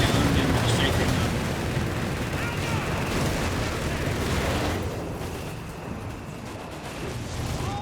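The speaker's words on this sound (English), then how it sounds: "The FT-42 is just unleashing a staccato cacophony of lead there." Sustained heavy gunfire from an FT-42 in a Company of Heroes 3 battle, a dense, continuous roar of rapid shots and blasts that eases slightly toward the end, with voices under the din.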